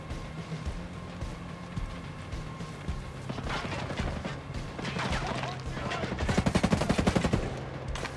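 Automatic gunfire in Ghost Recon Breakpoint during a shootout in which an informant is hit, rapid machine-gun bursts building to a loud, sustained volley near the end, with a voice talking over the early part.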